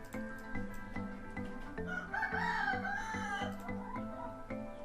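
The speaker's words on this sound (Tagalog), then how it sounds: "Pasensya na sa background na maingay. We have so many chickens." A rooster crows once, long and wavering, over a background of hens clucking and steady rhythmic tapping, from a large flock of chickens.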